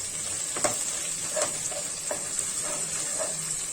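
Chopped coriander and curry leaves fry in hot oil in a pan for gongura pachadi, a steady close sizzle with occasional soft stirring scrapes and no talk.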